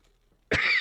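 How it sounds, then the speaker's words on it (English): A single sharp, close cough bursts out after near silence and rings briefly at full loudness. "Just a residual cough"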